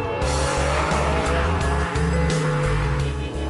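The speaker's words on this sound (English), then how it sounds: "Immediately you feel this Pagani Zonda is sorted out" Pagani Zonda supercar driven at speed on mountain roads, its engine roaring loud and close with repeated rises and drops as it shifts through gears, no talking over it.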